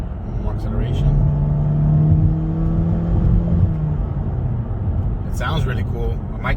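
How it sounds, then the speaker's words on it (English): A 2020 Honda Civic Sedan Sport accelerates from inside the cabin, a low, steadily rising engine drone and road rumble that holds for several seconds, with brief speech near the start and end. "More acceleration."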